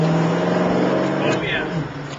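A 1969 Camaro with a ZZ4 engine drives along, its engine droning steadily with a low hum and a slight shift in pitch near the end, close and fairly loud.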